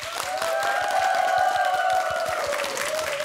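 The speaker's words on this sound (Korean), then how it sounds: "이제 그럼 좀 큰 박수로 좀." A studio audience on a Korean morning TV talk show bursts into a big round of applause, brisk clapping with crisp individual claps audible alongside a sustained ringing tone throughout.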